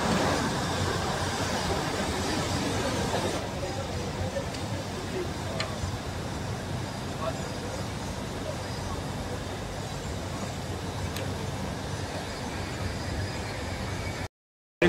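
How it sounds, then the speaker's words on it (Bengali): Matheran toy train rolling along its hill track just after leaving Aman Lodge, a steady continuous rumble of running carriages close by, with a voice talking over it. "অমর লজ থেকে এখন ট্রেন ছেড়ে দিল, টয় ট্রেন"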